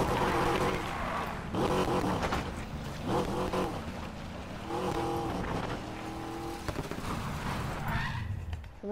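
A car races along in Need for Speed Payback, its engine roaring loudly and continuously, the revs climbing and dropping through gear shifts, with game music or effects layered underneath.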